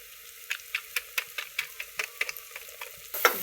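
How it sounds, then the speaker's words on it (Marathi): Mutton masala spices roasting in a pan while being stirred, a steady close series of scraping ticks about twice a second over a faint sizzle, with no voices. "पाहू शकता कसं भाजलंय, कसं झालाय मसाला तुम्ही पाहू शकता."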